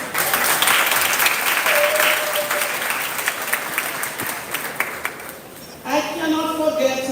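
Audience applause at the Seaforth High School graduation ceremony rises as a dense, sustained clapping that gradually thins, then a speaker resumes talking over the last scattered claps.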